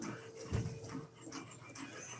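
A dog pants close by in quick, rhythmic breaths, with a faint whimper mixed in, over a short continuous stretch.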